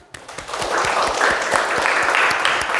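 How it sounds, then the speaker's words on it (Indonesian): A classroom audience applauds for almost three seconds, a dense steady run of claps that begins abruptly and keeps going at an even level. "Aplaus dulu."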